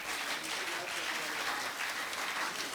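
Audience applause at a Pakistan Association of the Blind ceremony for International White Cane Safety Day in Bahawalnagar, a steady, dense clapping that holds evenly throughout with no gaps.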